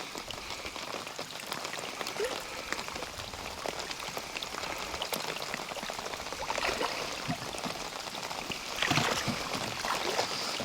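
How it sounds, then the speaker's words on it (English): Steady rain patters and hisses across surfaces outdoors, a dense continuous wash of drops with a few louder splashes, moderately loud throughout. "Just in time with this rain, isn't it?"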